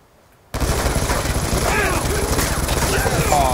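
A sentry turret fires in Call of Duty: Black Ops 2, bursting in after a quiet start with loud, rapid, sustained automatic gunfire and crashing game effects, while players talk over it.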